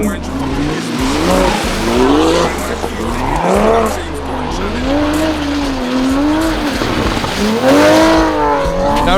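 Toyota Supra sliding sideways off-road, tires squealing in long wavering whines over a loud, surging engine that rises and falls throughout, close and sustained.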